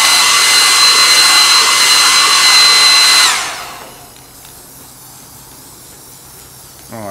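A hair dryer blasts loud, steady air across a fresh spray-can tack coat on a Jackson steel wheelbarrow for about three seconds, then cuts off, leaving quiet room noise and a brief sound at the end.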